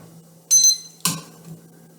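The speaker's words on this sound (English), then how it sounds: "I'm going to set my kitchen timer, which is easy because I'm in my kitchen." A kitchen timer being set in a home kitchen: two quick clicks or short chimes half a second apart, close and fairly loud, over a faint steady hum, no talking.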